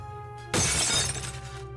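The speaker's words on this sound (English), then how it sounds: "Nordis throws his pot against Eok's head, causing it to shatter." A clay pot smashes against someone's head, one sudden loud shattering crash with a bright spray of breaking fragments that rings briefly and fades, heard alone with no voices.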